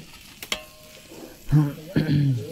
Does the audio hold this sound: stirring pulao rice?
yes